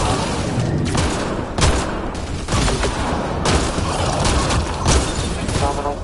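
Dense gunfire from a sci-fi firefight in the video game Mass Effect Andromeda, loud sustained bursts with sharp individual shots and booming impacts over about six seconds.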